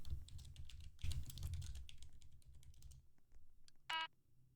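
Keys clatter on a computer keyboard in quick, irregular bursts of close clicks while typing a search into a tower defense game, followed by a short bright electronic beep near the end.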